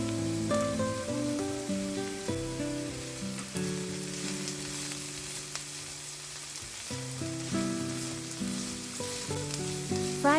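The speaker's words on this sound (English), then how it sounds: "I love that sizzling sound" Onions frying in a pan, giving a continuous bright sizzle and crackle laid under melodic instrumental music that dominates the mix, steady throughout with no speech.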